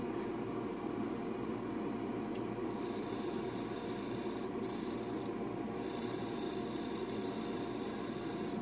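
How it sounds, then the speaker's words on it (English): Continuous rasping scrape of a bowl gouge hollowing a spinning maple bowl, steady and even, with a couple of brief higher hissing bursts. "Use the bowl gouge for most of the hollowing."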